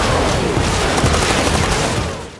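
Rocket fire in a war film scene about US forces fighting al-Qaeda and the Taliban, a dense, loud roaring blast with crackling rumble that holds for about two seconds and then fades.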